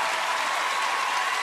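Dense, steady applause from a theatre audience during a televised singing competition, broadband clapping filling the whole stretch with no voices above it.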